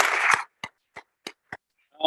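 A brief burst of audience clapping for speakers at an academic talk on the medieval past cuts off quickly, followed by four or five isolated, well-spaced single claps in an otherwise quiet room.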